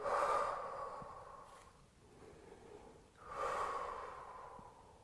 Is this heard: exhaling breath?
yes